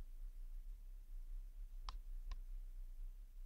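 Two quick computer mouse clicks, close and crisp, land about half a second apart over a steady low hum while working in Archicad, with no talking.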